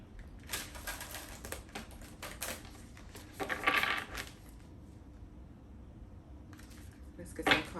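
Tarot-style cards handled and shuffled by hand, a series of crisp riffling flutters and slaps in bursts, close and fairly loud, with quiet gaps between shuffles.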